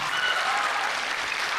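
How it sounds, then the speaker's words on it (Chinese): Audience applause at a school Amis indigenous song-and-dance competition, a steady dense clapping that fills the whole short stretch at even loudness with no voices over it. "我们给他们掌声一下，好不好？"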